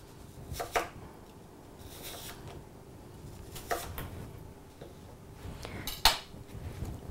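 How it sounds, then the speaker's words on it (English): Apples being sliced for a caramel apple pizza: a few scattered knife-on-board chops and cutlery clinks, sparse and moderately close over a quiet kitchen background. "So I'm going to get all these sliced up, and then I'll show you how to stack them onto the crust."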